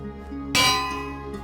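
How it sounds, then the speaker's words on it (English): A single bell in the Minecraft video game strikes once with a bright clang, ringing out over a steady background hum and fading slowly. "Gotta put the bells up there."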